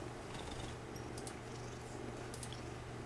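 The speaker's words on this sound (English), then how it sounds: "Noisy, spitty cat." A kitten purring up close, a soft continuous rumbling purr with a few small wet clicks and spitty noises, heard alone without talk.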